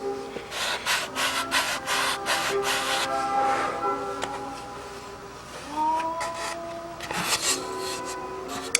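A block sander rubs back and forth against a wooden part on an RC plane fuselage to refine an angle for a tight fit. Quick rasping strokes come first, then slower scraping and handling noises, close and fairly loud with no talking.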